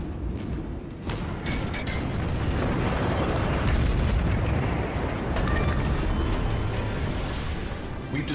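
Cruiser main guns firing with shell explosions in a naval warfare video game, several heavy booms and rumbling blasts layered over continuous battle noise, fairly loud and without talk.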